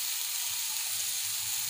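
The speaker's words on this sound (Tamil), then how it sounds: "அந்த வெங்காயமும் நல்லா செவந்து வந்துடுச்சு, வதங்கிடுச்சு பாருங்கள்." Onion, ginger, garlic and green chilli sizzling in oil in a pan, a steady, close, even frying hiss with no talk, for a brief moment.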